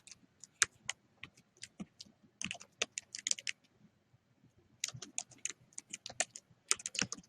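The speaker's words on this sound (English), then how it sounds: "I gotta type real quick here." Quick typing on a computer keyboard, close and fairly quiet, with rapid irregular key clicks in bursts separated by short pauses.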